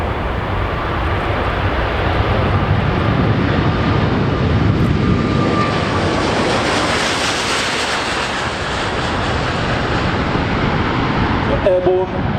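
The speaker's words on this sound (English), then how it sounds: "Airborne, steep climb, banking and climbing as the gear is retracted" A Qatar Airways Airbus A350-1000 roars loudly on takeoff during a Farnborough Airshow display, a broad, steady jet rumble and whine that rises and holds across the whole stretch, with commentary talking over it.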